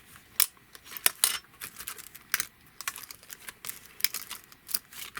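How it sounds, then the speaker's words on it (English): Scissors snip loose thread ends on a hand-sewn bookbinding project, a series of sharp close clicks and crisp cuts at an uneven pace with quiet rustling between. "So I'm just going to snip them off."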